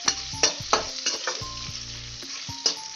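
Sorrel greens fry with bay leaf and onion in a pan, sizzling steadily while a spatula stirs and scrapes in repeated clacking strokes.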